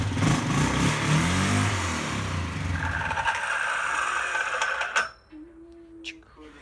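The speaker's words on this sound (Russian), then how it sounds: "То есть запускаем двигатель." An ATV quad bike engine with a starter fault cranks and fires, a rough clattering roar that settles into running before cutting off abruptly, followed by near silence and a faint tone.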